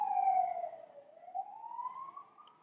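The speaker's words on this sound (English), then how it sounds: "I'm waiting for that siren to pass." An emergency siren wails at a distance, its pitch sliding down and then climbing again as it passes, faint and alone.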